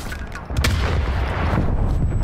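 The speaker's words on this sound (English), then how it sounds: "Artillery targeting detected. Artillery inbound." An incoming artillery strike in a video game: after a brief quieter moment, a heavy booming impact hits, followed by sustained low rumbling and debris-like crackle that stays loud to the end.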